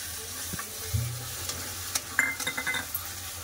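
Chicken korma with yogurt and cashew paste sautés in a pan, a soft continuous sizzle under intermittent spoon scrapes and clinks against the metal, close and fairly quiet with no voices.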